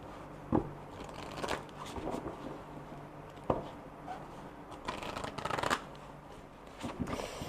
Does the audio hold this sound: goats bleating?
no